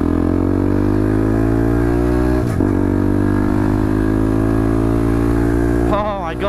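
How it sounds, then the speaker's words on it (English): A fake Honda Grom-style motorcycle is revved hard in third gear: a loud, close, continuous engine drone whose pitch climbs steadily, with a brief hitch midway and a rougher flutter at the end. "Revving the shit out of it in third gear."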